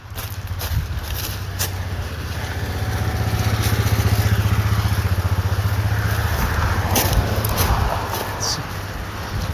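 A Kawasaki motorcycle engine drones steadily and builds to a peak mid-clip before easing slightly, heard outdoors on a warm sunny day with faint footfalls and breathing from someone running alongside.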